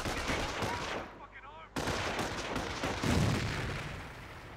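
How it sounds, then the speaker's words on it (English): Company of Heroes battle audio: a grenade blast and machine-gun fire in a dense, continuous rattle of gunfire, with a short lull before the shooting resumes, louder and with a booming hit near the end. "Let's throw a grenade to destroy the machine gun team"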